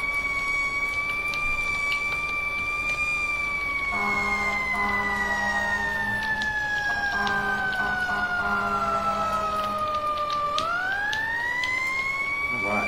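A fire engine siren from the video game EmergeNYC wails in a long, slowly falling tone and then sweeps back up near the end, steady and prominent, with a horn-like pulsing layer joining partway through.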